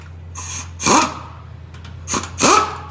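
A wrench snugs U-bolts on a 2017 Mercedes Sprinter 3500 during a suspension kit install, giving a few short, close ratcheting bursts separated by quiet pauses.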